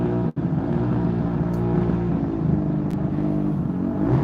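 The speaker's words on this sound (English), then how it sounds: "I hope you can hear me with this guy's motorbike or whatever it is going off here." A steady motorbike engine rumble drones close by, holding a low idle with slight swells, loud and continuous throughout.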